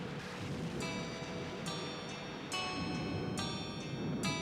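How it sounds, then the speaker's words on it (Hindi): Steady rain falling during a wet-season night, a dense even hiss of drops with a few sharper patters and faint distant rumbles, no voices. "बारिश का मौसम है"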